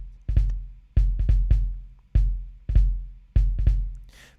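A punchy kick drum beat with no transient processing: deep kick hits with sharp clicks on top, playing a syncopated pattern, each hit ringing out before the next.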